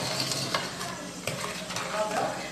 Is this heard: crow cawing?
no